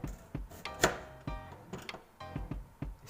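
A knife chops through an onion on a cutting board, slicing it into rings with a run of sharp, irregular thuds and cuts close by, one stroke louder than the rest, with no talking.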